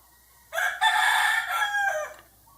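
A rooster gives a single loud, close crow lasting about a second and a half, rising and then trailing off, with no talking over it, heard during a gardening storytime.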